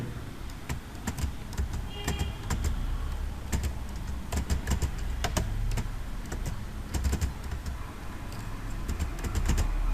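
Keys click unevenly on a computer keyboard as a Gmail contact is filled in, quick clusters of taps with short pauses, close and fairly soft over a low background hum.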